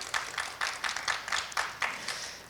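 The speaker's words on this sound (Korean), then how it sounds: "네, 박수 한번 보내주시죠." A small forum audience gives a sparse round of welcoming applause at a multicultural startup forum. The clapping comes in uneven bursts, fairly faint, with no talk over it.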